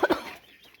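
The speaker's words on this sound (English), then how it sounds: "You hear those chirps, huh? Can you hear those chirps? Are those your baby chickies?" Baby chicks cheep in two quick, bright chirps close by, followed by faint fluttering chirps that trail off.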